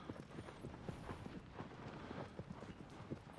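Horse hooves in Shadow of the Colossus thud in a fast, even galloping rhythm, fairly quiet and steady, with no talk over them.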